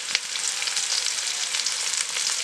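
Vegetables fry in a hot pan for a fish curry with raw banana and papaya, giving a steady, bright sizzle with light crackles, close and moderately loud with no talk.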